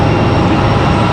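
An Airbus A220 airliner at Raleigh-Durham International, a brief burst of loud, steady jet engine roar close at hand.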